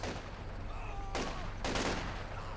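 Gunfire in Company of Heroes 2 as a machine gun team sets up, a steady background of combat noise broken by two loud, short bursts of shots close together.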